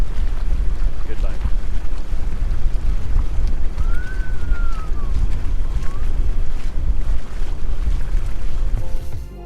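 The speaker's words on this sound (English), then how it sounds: "I am sailing the boat." A sailboat under way in steady wind, with constant rushing wind buffeting the microphone and water washing along the hull, plus a brief high whistling tone midway.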